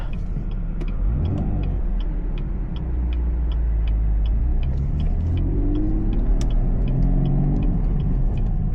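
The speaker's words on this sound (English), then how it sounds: "Clutch in, go to second, back on the gas." A manual-transmission car's engine rumbles steadily from inside the cabin, its pitch rising and falling as it revs through gear shifts, with a faint regular ticking above it.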